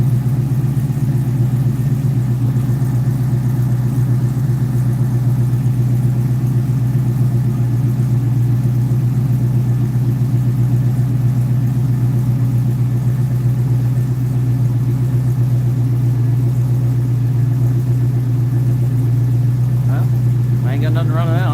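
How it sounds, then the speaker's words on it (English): A stock LS3 V8 in a Firebird idles steadily through two-chamber Hooker mufflers, a deep continuous rumble held at an even, fairly loud level throughout, with a brief higher burst near the end. "doesn't sound bad for a stock LS3"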